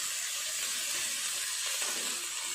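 Steady frying hiss of onion, garlic, tomato and ginger paste with green chillies cooking in a pan, a close, even sizzle with no voices.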